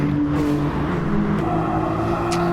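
Nissan GT-R race cars at Suzuka roar in a steady, loud engine drone with sustained high-revving tones and shifting pitch, heard close and uninterrupted.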